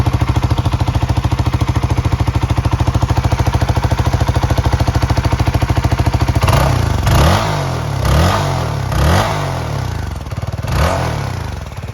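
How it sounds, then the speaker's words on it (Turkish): CF Moto 250 NK motorcycle with stock exhaust idling up close, a steady rapid putter that shifts midway into a series of short throttle blips with clattery bursts. "Rölanti sesi böyle arkadaşlar."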